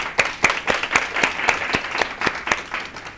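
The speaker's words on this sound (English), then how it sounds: "I just want to give them a round of applause." Audience applause at a winter wellness health event fills the room, a steady run of many hands clapping, moderately loud and close, with no voices over it.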